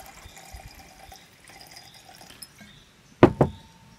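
Vodka is poured from a measuring cup into a small jar, 150 ml, for a chanterelle mushroom tincture; a quiet room gives way to a brief, close splash of liquid near the end.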